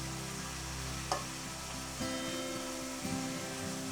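Fish fries in a pan of oil, turned to crisp lightly on both sides, with a steady close sizzle and hiss and a few soft knocks from a turner against the pan.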